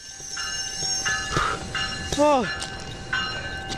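A rail train braking to a stop, with sustained high metallic brake squeal and grinding tones under brief shouting voices, fairly close and loud.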